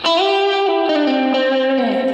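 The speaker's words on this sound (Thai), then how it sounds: "ทีนี้มาโหมดรีเวิร์บนะครับ รีเวิร์บก็ประ มาณนี้นะฮะ" Sustained electric guitar notes through a NUX Mighty Lite BT mini amp's reverb mode, drenched in reverb, a smooth washy tail trailing each sliding chord; loud and steady with no talking.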